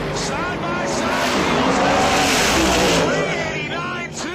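Drag racing cars, including Dwayne Mills' Grand Prix, launch side by side on a radial drag strip, a loud, sustained engine roar under an announcer's voice that fades near the end.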